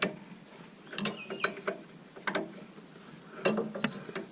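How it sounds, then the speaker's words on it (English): Metal clicks and clanks from a Stilson wrench holding a Safari shock absorber while its nut is undone during suspension spacer fitting, scattered sharp knocks and scrapes, close but fairly quiet, without talk. "Put a Stilson's onto here to hold the shock from spinning while I'm undoing it."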